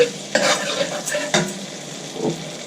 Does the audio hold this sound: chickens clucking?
no